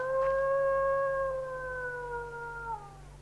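Dogs howling at night, a single long sustained howl with steady harmonic tones that glide slightly downward before tapering off, loud and close over a low droning background.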